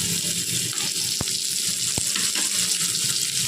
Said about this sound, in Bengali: এবার পেঁয়াজ আদা টমেটোগুলো তেলের মধ্যে ভালো করে নেড়ে নেবে।